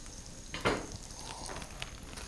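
Center-cut bacon sizzles on a four-burner Blackstone griddle, a steady, moderately quiet crackle with a brief louder burst early on and scattered pops, no voices.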